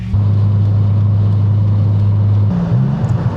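A car engine misfiring with one cylinder not firing drones at a loud, steady low pitch while driving, then shifts and wavers unevenly near the end.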